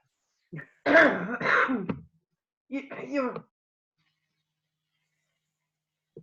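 A few harsh, throaty coughs in two close bursts, loud and near, followed by silence.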